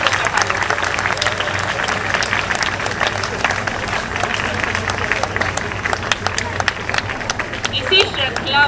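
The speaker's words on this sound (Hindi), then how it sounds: "सभी उपस्थित जन तालियां बजाकर उनके सम्मान को बढ़ाएं।" Audience applause at a school Independence Day celebration: dense, steady clapping from a large crowd of students and guests, loud and continuous, with a faint murmur of voices beneath it.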